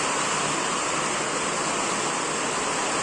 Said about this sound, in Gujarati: ફૂલ ગાંડો વરસાદ થયો રાજકોટમાં.